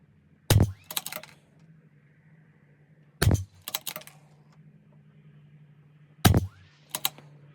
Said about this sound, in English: shoot another 4 or 5-shot groups